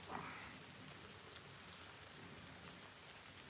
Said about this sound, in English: because it's raining, if you can't tell